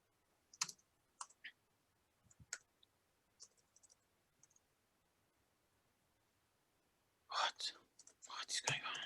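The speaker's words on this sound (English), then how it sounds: "So I'm just typing text here." Sparse, sharp clicks from keys on a computer keyboard tap out a few strokes at irregular intervals in a quiet room, then a louder rustling burst of noise follows near the end.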